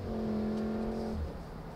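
A 2019 Volkswagen Golf R MK7.5 with all-wheel drive, in race mode with the transmission in sport, accelerates out of an S-curve with a steady engine drone heard from inside the car, which eases off near the end.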